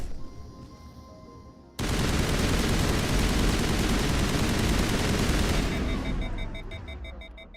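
Pistol fire from Mass Effect: Legendary Edition cuts in abruptly as a loud, dense volley of rapid shots that holds for about four seconds, then tapers off.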